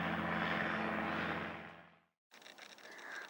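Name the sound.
helicopter circling over a marina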